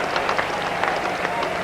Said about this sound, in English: the crowd loving this run chase